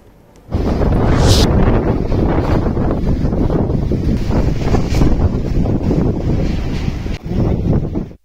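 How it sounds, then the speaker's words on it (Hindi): Strong stormy winds over the twin cities of Islamabad and Rawalpindi, a loud, continuous roar of gusts buffeting the microphone that builds suddenly, stays heavy and dips briefly near the end. "जुड़वा शहरों में तेज हवाओं के शदीद झकड़ों और गरज चमक के साथ तेज बारिश"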